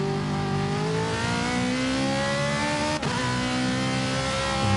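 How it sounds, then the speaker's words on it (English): A race car coming into the pits gives a loud, close, steady engine drone that holds for several seconds and rises slightly in pitch toward the end, with no voices over it. "the next car coming into the pits"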